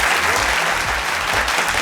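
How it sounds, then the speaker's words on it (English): An audience claps together for a school team at a televised quiz contest, a loud, dense burst of applause throughout. "let's put our hands together for them as well"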